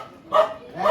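A dog barks twice, each a short, fairly loud bark close by, with a brief quieter gap between them.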